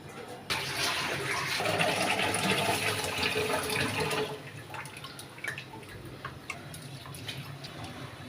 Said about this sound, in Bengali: মনের মতো করে সার্ভেক্সেল দিয়ে চাউলটা ধুয়ে নিলাম